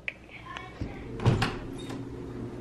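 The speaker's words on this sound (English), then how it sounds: "He opened the door to get in the back, and then he closed it." A car door opens and then closes, giving a soft click and a muffled thud at close range while people talk quietly.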